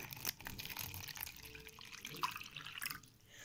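Water from a tap fills a glass bowl, a steady soft rush with small splashing and gurgling, fairly faint and close, with no talk.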